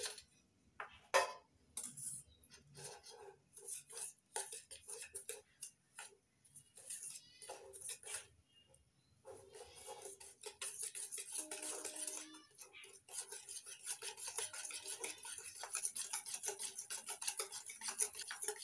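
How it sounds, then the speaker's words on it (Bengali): Butter is whisked with powdered sugar in a bowl, a rapid scraping and clicking of the whisk in uneven bursts, then a denser continuous beating in the second half, close and fairly quiet. "3 চামচ চিনির গুঁড়ো দিলাম, এবার ফেটিয়ে নিচ্ছি।"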